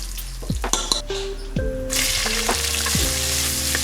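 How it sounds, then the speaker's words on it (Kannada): Onions frying in oil with whole spices such as cloves, cardamom and kasuri methi for chicken biryani: a few stirring knocks and scrapes at first, then a loud sizzle that rises and holds up close. "ಈರುಳ್ಳಿ ಬ್ರೌನ್ ಬರೋವರೆಗೂ ಹುರ್ಕೊತಾ ಇದ್ದೀನಿ"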